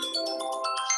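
A bright, busy electronic phone ringtone with rapid repeated melodic notes, playing loud and alone for about a second.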